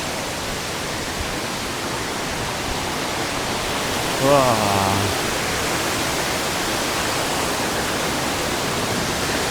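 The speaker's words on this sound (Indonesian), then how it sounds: "Dan ini air terjunnya, kita lihat." Waterfall at Mt Lorokan roars as a steady, loud broadband rush throughout, with a brief voice exclaiming midway over the water noise.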